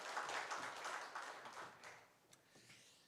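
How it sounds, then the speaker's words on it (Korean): A church congregation claps during a Sunday worship service, a soft, fairly distant burst of applause that quickly thins out and fades to a few scattered claps within about three seconds. "우리 하나님께 영광의 박수 올려드리겠습니다"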